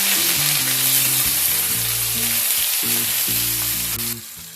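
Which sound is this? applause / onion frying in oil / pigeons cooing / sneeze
onion frying in oil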